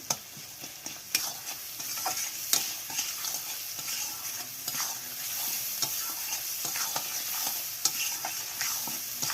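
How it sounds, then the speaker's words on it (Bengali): Chopped tomato frying and being stirred in a pan with turmeric, a steady sizzle broken by repeated scraping clicks of the spoon against the pan, close and moderately quiet with no talking. "একটা টমেটোটা কষে একদম পুরো সেদ্ধ করে একদম গলিয়ে নিতে হবে একদম"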